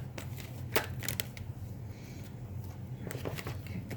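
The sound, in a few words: shuffling cards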